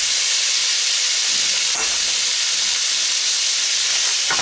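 Pork pieces searing in hot oil in a pan for Filipino adobo, giving a steady broad hiss and sizzle that holds evenly throughout, close and fairly loud, with no talking.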